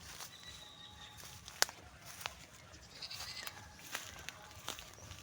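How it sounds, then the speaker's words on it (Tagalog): Farm goats bleat faintly in hot, dry weather, with soft scattered calls and light rustling and clicks over a quiet background. "Yan, mga alaga nating kambing."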